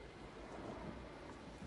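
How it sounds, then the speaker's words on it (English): Steady rain begins to fall outdoors near an airport runway fence line, a soft continuous hiss with low rumbling wind noise against the microphone, fairly quiet and unbroken. "It started to rain, so we returned to the car."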